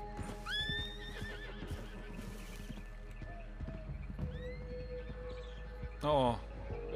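A horse in the video game Red Dead Online neighs loudly twice amid rhythmic hoofbeats, with game music and chimes in the background.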